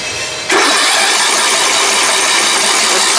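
An MTD Bolens 38-inch riding mower engine cranks over, then bursts into a loud, steady, rough roar at close range after a brief quieter start, with no talking.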